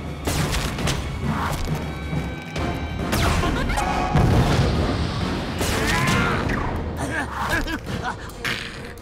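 Cannon blasts in an animated action film, a dense barrage of loud booms, crashes and thuds layered with whooshing effects and a brief voice, chaotic and continuous.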